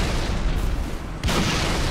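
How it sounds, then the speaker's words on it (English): A grenade going off in a multiplayer video game match, a sharp loud blast after a brief dip in the busy game noise, followed by a sustained rumbling tail. "So why is he throwing grenades?"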